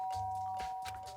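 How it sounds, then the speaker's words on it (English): A doorbell chimes in the Danganronpa: Trigger Happy Havoc video game, a short pure tone that rings steadily through the moment with soft thuds beneath it. "I pressed the doorbell."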